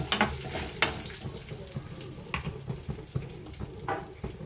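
Pepper powder frying in oil for tamarind rice, a faint sizzle with a few scattered scrapes and clicks of a spoon in the pan.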